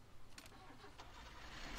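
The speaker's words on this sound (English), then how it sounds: "You gotta turn on the car." A car engine cranks and catches in the driving game Jalopy, a faint, rough mid-range rumble with a couple of short bursts, low in level and without talk.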